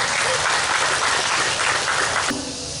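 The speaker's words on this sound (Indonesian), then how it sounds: "Tepuk tangan." A crowd at a public event in Cianjur breaks into loud, dense applause that holds steady, then eases slightly near the end as a voice starts to come through.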